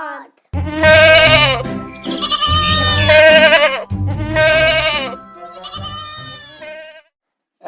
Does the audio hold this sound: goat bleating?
yes